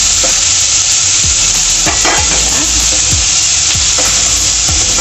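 Squid adobo fries in a pan with a loud, continuous close sizzle while a utensil stirs and scrapes at irregular intervals.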